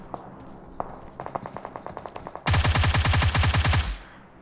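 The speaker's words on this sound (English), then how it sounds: "There's a lot of gunfire going on over there for a" Gunfire in the mobile battle royale game PUBG Mobile: a few scattered distant shots, then a run of quicker rapid rounds, before a loud, close automatic burst of about a dozen heavy shots that cuts off abruptly.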